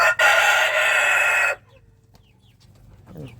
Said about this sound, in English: And I'm being crowed at.